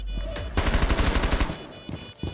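Tachanka's mounted DP-28 turret in Rainbow Six Siege fires a rapid, loud burst of about a dozen shots lasting roughly a second, followed by quieter game sounds and a short later thump.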